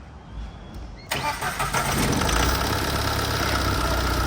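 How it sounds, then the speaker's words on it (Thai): A car that had sat unused and would not start cranks, then catches and settles into a loud, steady idle after its wiring was replaced, close up with no talk. "โอเคสตาร์ทเครื่องได้แล้วนะอ่าเบิ้ลหน่อย"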